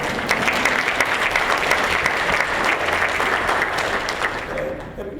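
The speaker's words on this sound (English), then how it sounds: "Give me a round of applause for that." An audience at a Columbia Association community meeting on diversity gives a dense round of applause, steady and loud throughout before tapering off at the end.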